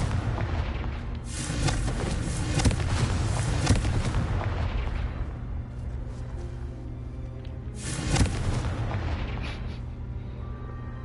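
Confringo blasting spells set off explosions in a video game, a dense run of heavy booms and crackling blasts that fades out, then a second loud burst erupts later and trails away.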